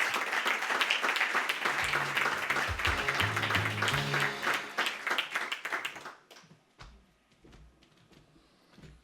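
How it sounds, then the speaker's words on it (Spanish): Audience applause at a Madrid book presentation, steady clapping for about six seconds before fading out, leaving sparse scattered claps and quiet room noise. "Pido un aplauso para Fernando Moroy."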